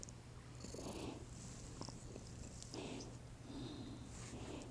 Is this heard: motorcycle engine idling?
no